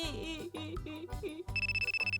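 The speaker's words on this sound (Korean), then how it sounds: "전화 오는데?" A mobile phone ringtone plays indoors, a bright electronic melody of repeated tones ending in a rapid pulsing ring, clear and close with no voices over it.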